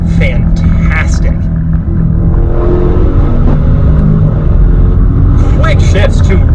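Maserati Levante Trofeo SUV with a roughly 580-horsepower engine accelerating hard from inside the cabin, a loud steady rumble and rising drone with gear shifts, while someone talks over it throughout.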